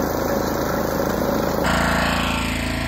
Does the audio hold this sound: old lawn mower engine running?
yes